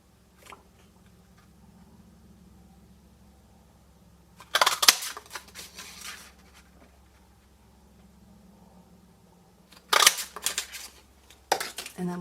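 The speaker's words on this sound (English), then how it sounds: "And then punch out your daisies." Daisy-shaped craft punch cutting shapes from paper or foil: two sharp, loud crunching clicks about five seconds apart, each followed by brief rustling, with a faint low hum beneath.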